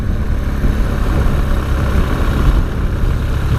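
A 2017 BMW R1200GS Rallye motorcycle engine runs close by at low revs, a loud, steady, throbbing rumble that holds evenly throughout.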